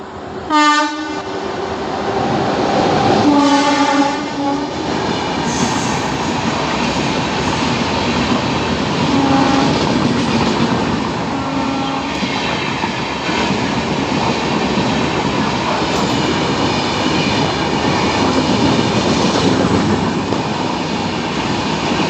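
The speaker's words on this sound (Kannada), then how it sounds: "ಒಂದು ಟ್ರೈನ್ ಬರ್ತಿದೆ, ನಿಮ್ಗೆ ಕ್ರಾಸಿಂಗ್ ತೋರಿಸ್ತೀನಿ" A train hauled by a WDP 4D diesel locomotive roars past at close range at a level crossing, its horn sounding loudly at the start and again briefly, with the rushing clatter of wagons continuing throughout.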